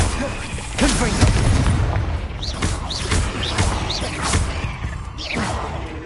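In the Hogwarts Legacy video game, the Confringo fire spell bursts with repeated booming blasts and whooshes amid rising magical chimes and swirling effects, loud and busy throughout.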